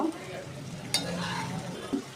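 Mixed dried fish (shutki) frying in a pan, a steady close sizzle with stirring scrapes and a couple of sharp utensil clicks against the pan.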